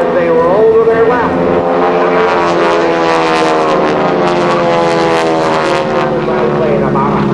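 A Red Baron Stearman biplane at an airshow drones loudly overhead, its propeller engine holding a steady buzzing tone, with faint talk underneath.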